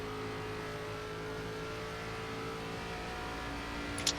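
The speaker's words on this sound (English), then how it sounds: "I just want to hear the engine sound here." An ARCA stock car racing in iRacing at Homestead gives a steady, loud engine drone with layered harmonics, holding constant throughout with a brief higher blip near the end, and no talk over it.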